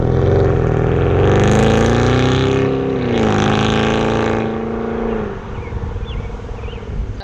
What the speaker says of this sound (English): Thing sounds awesome for a Mercedes-Benz.